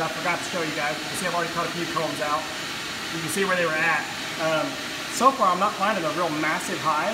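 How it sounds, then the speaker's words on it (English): A vacuum runs steadily through the removal of a honeybee colony from a chimney in a flood-damaged house, a constant whooshing drone beneath someone talking close by. "Apologize for the vacuum noise."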